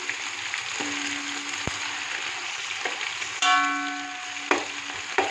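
Onion frying in a pan with garlic paste just added, giving a steady soft sizzle throughout, with a few brief clinks and a faint tonal beep near the end, no speech.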